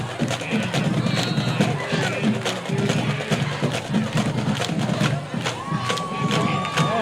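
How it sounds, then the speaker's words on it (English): Fans at a 2015 varsity high school football game between Lee's Summit North and Park Hill South cheer and shout in a continuous, lively roar from a large crowd, with individual yells rising above it. "Band's starting to get into it. Crowd's starting to get into it."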